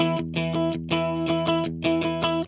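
An electric guitar played straight into an amp with no pedal gives a bright, crunchy tone in three rhythmic bursts of repeated chords, each ringing briefly before a short gap.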